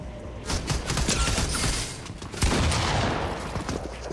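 Rapid bursts of SMG fire from Fortnite ring out in dense, continuous volleys, loud and close, with no talking over the shots.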